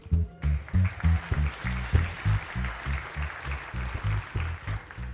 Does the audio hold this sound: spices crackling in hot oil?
no